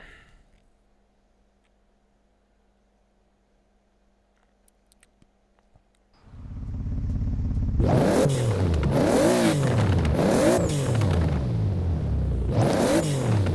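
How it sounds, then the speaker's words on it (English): A Toyota Supra engine in Forza Horizon 4 bursts in after several seconds of near silence, then revs loudly and continuously with rising and falling pitch sweeps and rough crackles, with no voice over it. "Hear the backfire."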